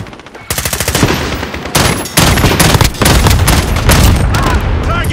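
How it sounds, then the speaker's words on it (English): Dense barrage of explosions and gunfire from an allied cluster strike in Call of Duty: Modern Warfare multiplayer on a St. Petersburg map, loud rapid booms and bursts rolling on nearly continuously after a brief quieter opening. "Allied cluster strike incoming."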